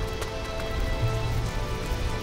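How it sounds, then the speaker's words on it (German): Rain falls steadily in the video game Risen 3, a dense, even patter of drops close around with no other sound standing out. "Und der Regen nervt mich jetzt langsam so ein bisschen."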